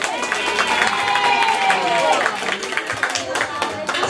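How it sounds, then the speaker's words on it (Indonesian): Audience applause at a Maulid commemoration held by santri in a village community setting, dense steady clapping mixed with crowd noise and some tonal calls or whistles, sustained throughout at moderate loudness. "Beri tepuk tangannya untuk Gube."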